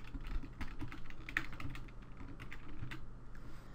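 Quiet, close computer keyboard typing during a Linux Mint 16 install, a quick run of light key clicks and taps over faint room hum, with no voice.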